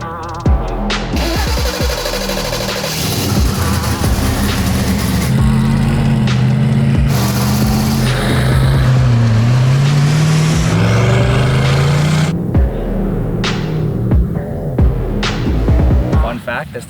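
A 1,000hp Halo Warthog off-road vehicle tearing through the desert, loud throbbing engine drone with rising and falling revs, rattles and bumps over rough ground, and brief voices underneath.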